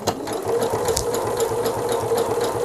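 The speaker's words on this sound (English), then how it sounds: "But now if we sew" A Pfaff Passport sewing machine running steadily at close range, giving a loud, continuous motor whir with a fast mechanical stitching rattle for about three seconds and no voices.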